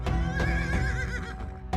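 Horse neighing up close and loud, a long wavering whinny with a short snort near the end, in a historical drama scene set on the road to Kufa.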